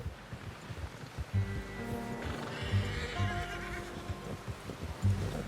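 A horse in Red Dead Redemption 2 gives several whinnies and neighs over clip-clopping hooves and outdoor ambience, fairly close and clear.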